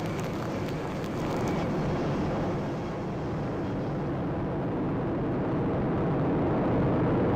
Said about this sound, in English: We have ignition and lift.